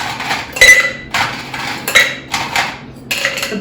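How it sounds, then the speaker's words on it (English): Four ice cubes clatter one at a time into a cocktail shaker or pint glass, each drop a sharp, close clinking hit with a brief rattle, spaced roughly evenly apart. "4 ice cubes in it."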